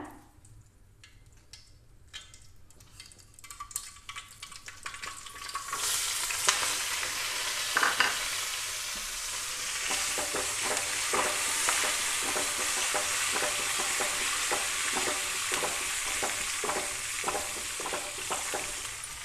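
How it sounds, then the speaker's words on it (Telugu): Tempering spices with crushed curry leaves, mustard seeds, cumin and small onions frying in hot oil while cooking brinjal pachi pulusu: quiet scraping at first, then a loud, steady sizzle that swells around five seconds and keeps on with crackles and stirring clicks. "మనకి పోపు బాగా వేగిపోయింది."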